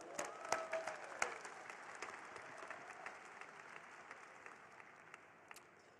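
An audience at a Parliament of the World's Religions live premiere event gives a round of applause. The clapping is soft and fairly distant, with a few sharper claps near the start, and it fades gradually over six seconds.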